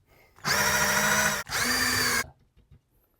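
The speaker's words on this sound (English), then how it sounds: "It's exactly 22 mm diamond drill bit." A power drill fitted with a 22 mm diamond core bit bores a water-cooled hole during a Xiaomi 1200G Pro water purifier installation, running in two loud, steady bursts of about a second each with a brief pause between them, then stopping.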